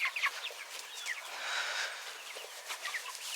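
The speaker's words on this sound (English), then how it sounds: "Happy, happy chickens." Chickens cluck and chatter outdoors in short, overlapping bursts, moderately close, with soft continuous background noise.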